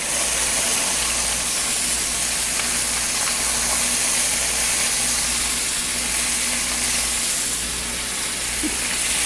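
Shrimp sautéing lightly in a pan for a lobster bouillabaisse, giving a steady, loud, unbroken sizzle and hiss that runs the whole stretch with no voices over it.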